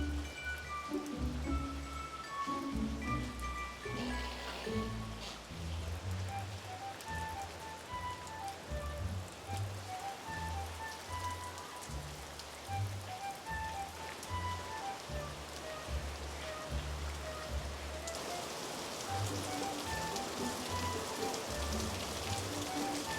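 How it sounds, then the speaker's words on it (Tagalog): Sudden heavy rain pours down outdoors, a loud, dense and steady roar of drops hitting surfaces that continues without pause throughout. "At umuulan po, guys, bigla ng malakas."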